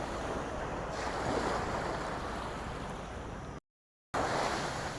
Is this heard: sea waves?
yes